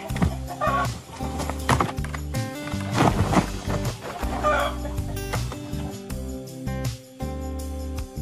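Chickens cluck in a scene from the Indonesian film Kucumbu Tubuh Indahku, mixed under busy, steady tonal music that runs throughout, with no talking.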